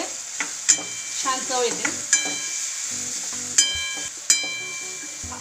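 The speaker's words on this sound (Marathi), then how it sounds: "धने टाकून घ्यायचे थोडे आणि थोडंसं हलवून घ्यायचं" Coarsely crushed coriander seeds get stirred in a hot oil tempering, a steady sizzle punctuated by sharp spatula clinks against the pan, and a brief spoken remark partway through.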